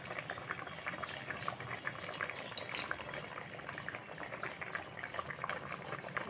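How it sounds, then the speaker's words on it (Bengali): A pot of fish curry with chopped coriander and tomato simmers at a steady boil, a soft continuous bubbling and faint popping, quiet and unbroken with no voices. "দিয়ে আমি আরও 4-5 মিনিট ভালোভাবে এটা ফুটিয়ে নেব।"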